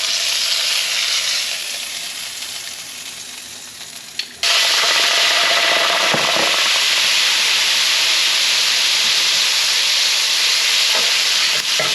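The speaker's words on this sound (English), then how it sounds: "now we got the yellow edge in there that's cooking up pretty quick, actually" Yellowedge grouper fillets frying in a pan, a steady loud sizzle and hiss close up that jumps sharply louder partway through and holds strong, with no talk.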